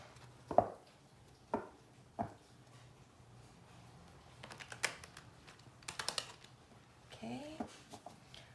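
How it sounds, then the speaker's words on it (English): A deck of tarot cards is shuffled by hand in a series of short, crisp riffles and soft slaps, spaced irregularly and heard up close in a quiet room. "We'll give it one more shuffle."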